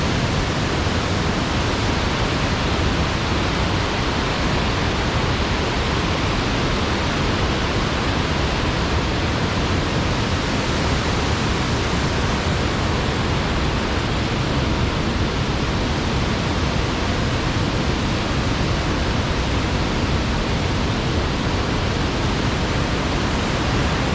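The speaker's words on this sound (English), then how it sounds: "Who doesn't like a waterfall" Waterfall in North Wales roaring steadily for the whole stretch, a loud, dense, unbroken rush of falling water heard up close with no voices.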